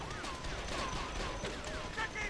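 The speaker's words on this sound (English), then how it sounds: "your people are shooting me through a wall" Gunfire in The Outfit strategy game hitting a player through a wall, heard as a rapid rattle of muffled shots and crackling bursts within a busy battle mix, with someone talking over it.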